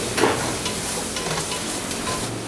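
Garlic and chopped onions fry in hot oil in a saucepan, giving a steady, close sizzle with a brief stirring scrape near the start and no voices.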